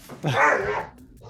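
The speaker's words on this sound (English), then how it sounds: "That was a space dog." A dog bark sound effect played during a tabletop Star Wars role-playing game session: one short, loud, yelping bark lasting under a second, standing alone against a quiet background.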